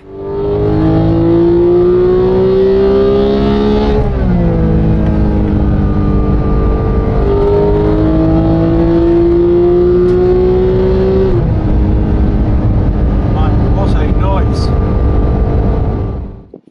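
A run-in Porsche GT3 with a 4.0-litre engine revs hard toward 9,000 RPM, the loud, sustained howl climbing in pitch, dipping at a gear change and climbing again, close and continuous throughout.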